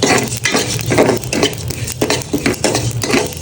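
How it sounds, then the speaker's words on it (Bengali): Whole cumin seeds frying in a pan on a lowered stove, with a soft crackle beneath repeated scraping and clinking of a spoon stirring against the metal, close and busy throughout. "আমি একটু জিরা ভেজে নিচ্ছি"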